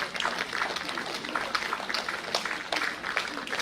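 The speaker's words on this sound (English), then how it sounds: "Big round of applause for APCS Entry Grade Mibom Tako" A crowd applauds successful civil service candidates at a felicitation ceremony, a dense, steady wash of many hands clapping together that carries evenly through the whole stretch without a break.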